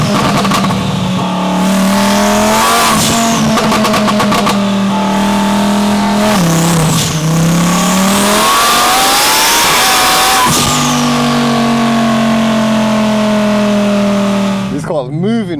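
A twin-turbo Audi R8 Spyder V10 revs hard and loud at close range, with several sharp climbs and drops in pitch over a constant engine roar, and brief voices at moments.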